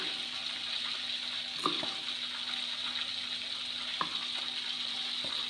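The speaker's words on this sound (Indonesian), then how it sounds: "Aku iris-iris, tapi sebelumnya aku cuci dulu ya." Chopped soup leaves are washed under a running kitchen tap, making a steady, quiet stream of water with a few small splashes and handling knocks, close by, with no talk.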